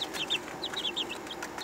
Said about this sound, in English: You sweet baby chickens.